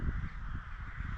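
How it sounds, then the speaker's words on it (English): A large flock of crows caws around a Cold War ROC bunker in Glamis, Scotland, their harsh calls overlapping in a steady, noisy chorus at moderate distance. "there's just a crazy amount of crows"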